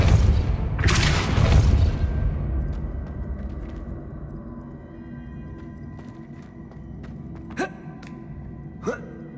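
A Depulso spell in the video game Hogwarts Legacy, a loud whooshing boom with a gasping burst up front that fades into a low rumble, then two faint, brief clicks later.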